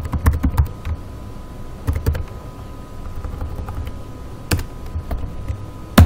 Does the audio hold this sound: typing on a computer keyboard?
yes